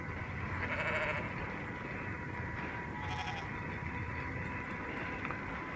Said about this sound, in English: Oh, hello sheep. Stay where you are.